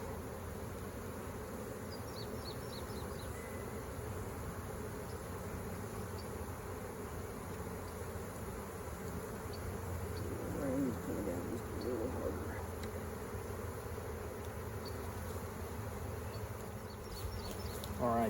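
A steady, faint drone of many bees buzzing together around a hive frame, continuous and even throughout, with no talking.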